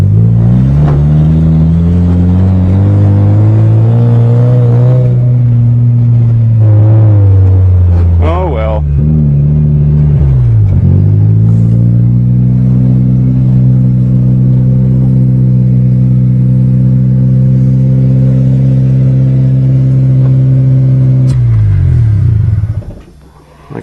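A Toyota GTS engine revs hard and loud in first gear, close up, its pitch climbing and holding with a brief dip and recovery before rising again, then cutting off at the end.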